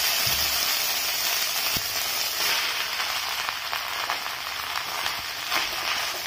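Chopped bottle gourd lands in hot oil with ginger paste for a fish-head lau ghonto, and a loud, steady frying sizzle fills the pan throughout without any voices.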